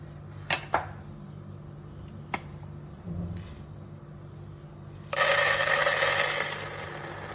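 Roasted lentils for paruppu podi being tipped and scraped onto a plate: a few sharp clicks and scrapes, then a louder rushing pour lasting about a second before it tails off.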